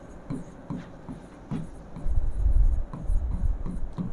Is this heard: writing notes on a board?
yes